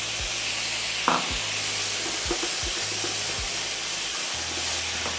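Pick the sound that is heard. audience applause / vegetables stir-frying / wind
vegetables stir-frying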